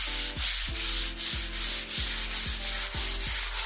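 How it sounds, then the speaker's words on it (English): Steady back-and-forth strokes of 240 grit sandpaper across a large wooden sideboard surface, a close, even rasping rub repeating about every half second with no talking. "I'm gonna take some 240 grit sandpaper and I will just slightly go over the surface"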